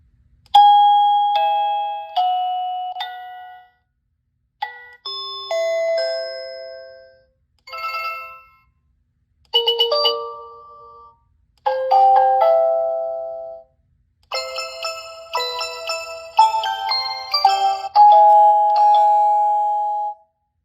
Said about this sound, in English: But it does have 8 different doorbells. It has 1 Christmas doorbell, and it's got 8 others,